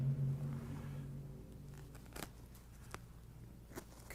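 Scissors snip through the packaging of a cigar box in a few short, sharp cuts, close and quiet, after a brief low rumble at the start.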